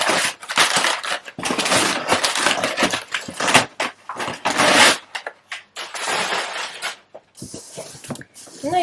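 Packing paper from a parcel is crumpled close by, giving a continuous, dense crackling and rustling that swells and fades over several seconds with brief pauses.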